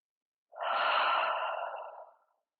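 A single deep, slow inhale lasting nearly two seconds during a breathing exercise in a low back pain workshop, soft and close, with no talking around it.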